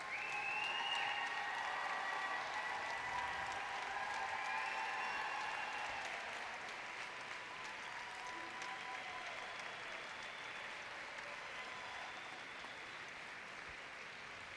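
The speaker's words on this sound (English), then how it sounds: "Rogers there with her Great Dane getting a healthy round of applause." An audience in Orlando applauds at an AKC junior showmanship dog show final, a sustained round of clapping that is moderately distant and slowly fades.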